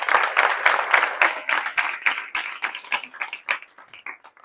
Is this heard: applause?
yes